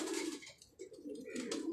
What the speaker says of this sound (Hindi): ये मेरा मोस्ट फेवरेट कबूतर है, हाथ में बिल्कुल भी नहीं आएगा